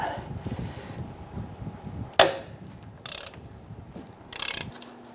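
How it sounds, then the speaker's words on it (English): An 18mm socket wrench works loose a rear control arm nut on a 2005-2010 Chrysler 300, giving one sharp crack followed by a few short ratcheting bursts in a quiet garage. "let's go ahead and try and loosen this nut"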